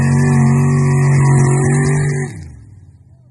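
A car engine fitted with aftermarket headers roars loud and close in a steady, throaty drone for about two seconds, then drops off abruptly to a low rumble.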